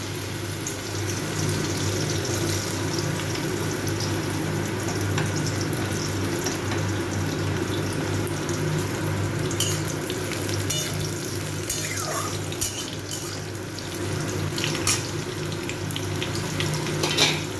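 Papaya pieces frying in a pan with dry chilli and spices, a steady sizzle with occasional stirring and light clatter throughout, no talking.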